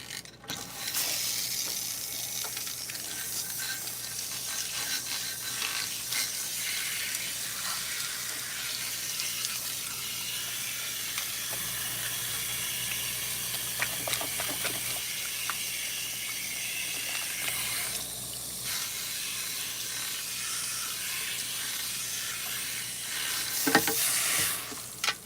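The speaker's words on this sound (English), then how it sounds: "Let me just rinse it a little bit" Water running steadily from a salon sink sprayer while natural low-porosity 4B hair is rinsed, a continuous close hiss lasting throughout with no talking.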